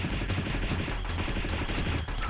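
Rapid gunfire from the Misadventures of Tron Bonne video game, a dense, continuous rattle of shots with heavy low-end booms underneath, loud and sustained throughout.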